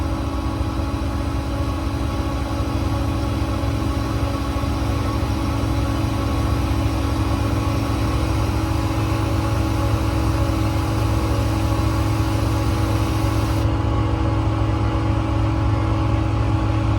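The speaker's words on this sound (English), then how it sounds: "You just pull down on this toggle here and it'll turn the compressor on. It's a Boss BA440 hydraulic compressor." A Boss BA440 hydraulic air compressor runs on a 2023 Mack MD6 service truck with a Cummins diesel, a steady low mechanical drone and engine hum that stays constant and close throughout, with no voices.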